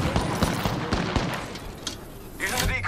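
Rapid video game gunfire from a battle royale shootout, a dense run of sharp overlapping shots close and loud, with short bursts and impacts throughout and a brief lull before firing picks up again.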